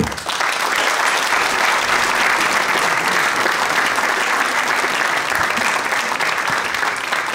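A comedy club audience gives a warm, loud round of applause as a stand-up comedian takes the stage, dense continuous clapping close to the listener that stays steady for about seven seconds.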